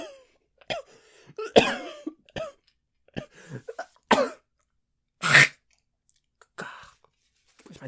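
Several sharp coughs and throat-clearing bursts scattered through near silence, close to the listener, with a few soft breaths between them.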